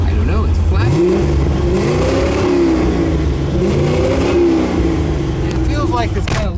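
A C4 Corvette Chevrolet Sport Coupe engine with a faulty throttle position sensor, revving loud and close in uneven rising and falling sweeps over a constant idle drone.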